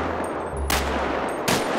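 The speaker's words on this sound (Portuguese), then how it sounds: "Quando eu falar aonde você tem que atirar, é rapidamente, é pra puxar a arma e atirar" Two sharp pistol shots ring out in the GTA 5 video game about three quarters of a second apart, loud over a steady background hum.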